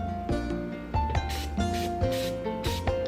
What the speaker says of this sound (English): go ahead and pull out the tray and spray the inside.